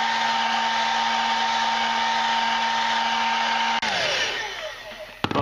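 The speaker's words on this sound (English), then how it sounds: "I'm going to dry all of these with a hairdryer just to get all the damp out of them" A hairdryer blows steadily to dry damp metal-detecting finds, a constant loud whirring hum that cuts off abruptly near the end, followed by quieter handling noises and a brief clack.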